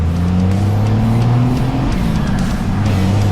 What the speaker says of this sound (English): That turbo blow off